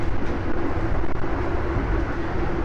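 Steady rumbling of a moving train heard from inside an air-conditioned economy carriage of Indonesia's Lodaya train, a continuous dense roar with faint rhythmic rattling throughout.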